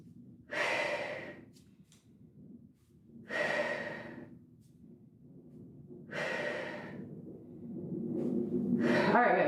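Deep, audible breaths during a barre workout, in four long cycles of slow, drawn-out exhales and inhales, close and fairly loud, with no talking.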